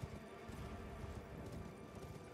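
A horse gallops in Elden Ring, rapid clip-clop hoofbeats rolling continuously under a dense, noisy game soundscape, fairly quiet overall.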